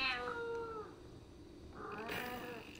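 A cat meows close by, two drawn-out calls with a quieter pause between them, fairly faint overall.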